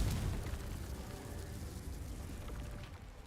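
A Confringo fire spell exploding in the Hogwarts Legacy video game, a dull low rumbling blast that fades over a few seconds, faint and muffled.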